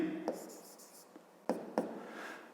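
A pen scratches out numbers on paper while a fifth-grade subtraction problem is worked, the soft close scribbling running steadily, broken by a couple of sharper taps and strokes.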